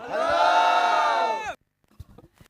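A crowd at a village cricket league match roars together in a loud, sustained cheer. The cheer cuts off sharply after about a second and a half, leaving a few scattered voices and claps close by.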